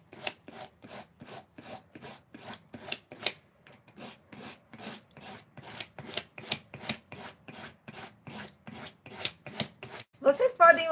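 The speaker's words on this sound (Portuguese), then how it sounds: "A lixa da Grid também dá pra gente tirar o excesso do papel." Sandpaper rasps in regular back-and-forth strokes, close and clear, as excess paper is sanded off the edge of a decorated box, with a brief pause midway.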